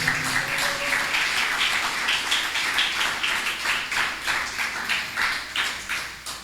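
A church congregation claps together in a steady, rhythmic beat during a Spanish-language sermon, filling the room with even, sustained hand claps.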